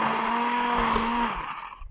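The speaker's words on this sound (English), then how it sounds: "So with the immersion blender, I'm just going to kind of go in." An immersion blender whirs steadily through a pot of slow-cooker plant-based corn chowder, a close, continuous motor whine that winds down near the end.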